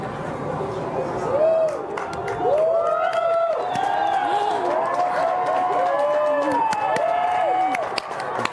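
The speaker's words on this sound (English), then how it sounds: "Everyone is cheering." A crowd cheers and whoops with sustained overlapping shouts during the 2023 annular solar eclipse, its ring of fire overhead. The noise is loud and steady, full of excited voices rising and falling outdoors.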